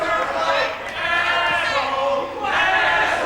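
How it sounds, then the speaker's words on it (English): Wrestling arena crowd jeering at Steve Stone, a loud, massed wave of booing and shouting that swells, dips briefly, then surges again. "And the crowd telling Steve Stone what they think of him"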